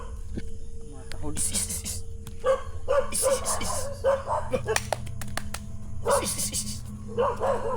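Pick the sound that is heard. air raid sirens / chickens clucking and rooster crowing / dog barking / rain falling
dog barking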